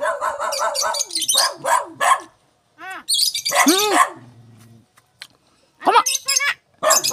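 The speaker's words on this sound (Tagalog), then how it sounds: "Tahol ng tahol." A dog barks over and over in bursts close by, with chirping bird calls mixed in and a gap of near silence partway through. Later the barking comes back in another quick run.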